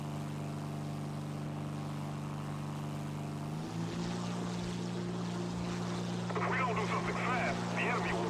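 The propeller engine of an XP-55 fighter in the War Thunder video game drones steadily with a strong, even hum whose pitch drops slightly midway, while a voice talks faintly over it.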